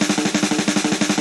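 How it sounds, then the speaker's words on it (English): A dense electronic snare roll runs as a fast, even stream of loud, bright hits in a short continuous burst, with no voices. "on top of that, we just layer this snare roll"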